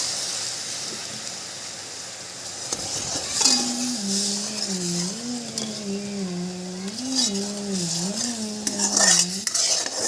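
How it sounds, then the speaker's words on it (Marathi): Spoon stirring sugar into boiled milk for Maharashtrian basundi, a soft metallic scraping and clinking against the pot, steady and close, with a tonal hum running underneath. "त्याच्यात तीन चार चमची टाकायचं आणि फिरवायचं"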